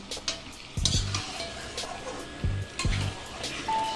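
Goat meat curry sautéed in a pan: a spatula scrapes and clanks against the metal in several quick bursts over a steady, close frying sizzle.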